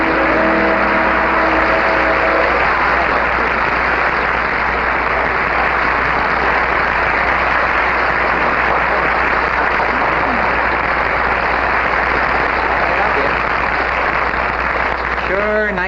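Studio audience applause for a guest on a 1964 daytime TV talk show, a dense, sustained roar of clapping that fills the whole stretch at steady loudness, with a brief hint of voice at the start.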